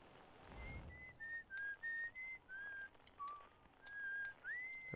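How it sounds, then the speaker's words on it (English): A whistled melody from the Outer Wilds video game soundtrack, phrased in short gliding notes separated by brief pauses, quiet and alone with faint accompaniment. "They're whistling on that one."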